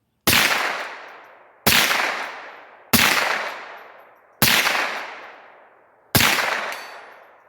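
.22 LR rifle fired five times at about 1.5-second intervals toward a target 120 yards away, each sharp loud crack ringing out with a long decaying echo.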